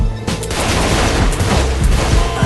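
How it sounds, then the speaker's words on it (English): A loud explosion in the Saints Row 4 game, a dense burst of booming, crackling blasts that rolls on for a couple of seconds. "And now for a little explosion."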